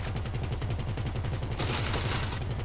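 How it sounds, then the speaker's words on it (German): Rapid automatic gunfire in Grand Theft Auto Online rattles continuously and loudly, with a burst of brighter, harsher shots toward the end. "das war ein Schuss"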